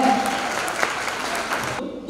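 Applause at a Turkish rural women's gathering for a young manager of the Atatürk Women's Cooperative: a steady, dense clapping crowd filling the room, which stops abruptly near the end.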